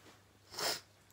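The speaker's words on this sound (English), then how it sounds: "I'm gonna sneeze." A single soft, muffled sneeze, a short breathy burst in the middle of an otherwise quiet moment.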